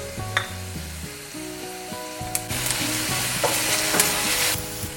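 Poblano chile sizzles as it fries with tomato in a pan for Mexican shrimp tacos, a steady close crackle under background music with a few sharper bursts of stirring.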